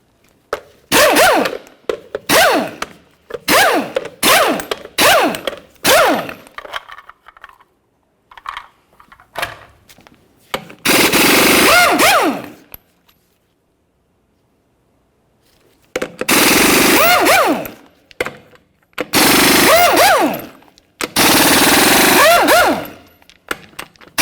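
Power tool spinning off 22mm lug nuts from a 1999–2006 Chevrolet Silverado truck wheel, loud close rattling bursts of an impact wrench, several short rapid hits then longer sustained runs separated by quiet pauses, no talking.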